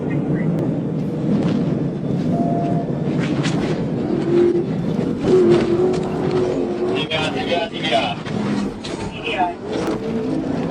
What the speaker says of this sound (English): Williams suddenly restarted the car and sped off at high speed on Interstate 40.